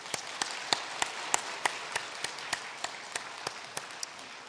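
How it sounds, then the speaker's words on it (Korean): A church congregation claps at a Sunday service to send off departing ministers, a light, fairly sparse round of distinct claps at a steady pace, somewhat distant in a large room. "우리 인사할 때 여러분 박수로 격려해 주시면 감사하겠습니다"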